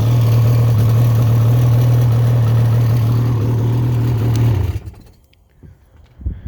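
Ski-Doo snowmobile engine idling nearby, a steady loud low drone that runs evenly for over four seconds and then cuts off, leaving near silence with a couple of faint handling noises.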